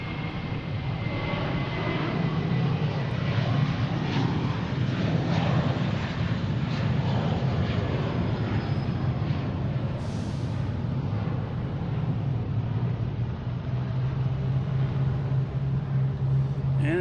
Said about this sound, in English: And Delta E175 coming in from LaGuardia.